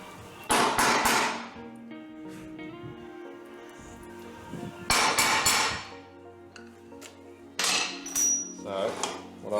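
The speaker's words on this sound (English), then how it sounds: "Just center punch those marks." A hammer strikes a center punch to mark metal parts of a Honda S600. Three sharp, ringing metallic blows land several seconds apart at close range, with quieter handling clatter and faint movement between them.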